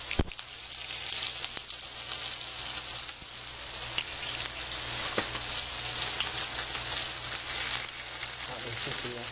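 Nuremberg sausages fry in a pan with a dense, even sizzle and crackle running throughout, close and fairly loud, with a few sharp pops and clicks scattered along.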